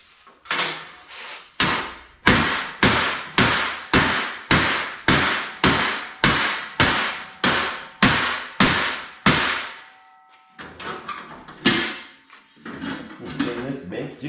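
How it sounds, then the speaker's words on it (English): Hammer whacks on a bent leaf vacuum part clamped on a workbench, a rapid run of about fifteen loud, evenly spaced metallic blows, then scattered lighter knocks and handling noise. "A few more whacks, and I think I'll have it."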